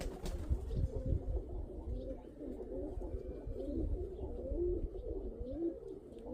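Pigeons coo in a steady, overlapping murmur close by, with rolling low calls throughout and a soft rustle underneath.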